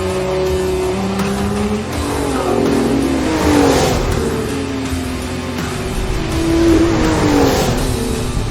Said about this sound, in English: This engine just roars, it sounds wonderful.